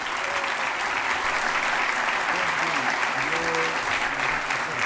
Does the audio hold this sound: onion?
no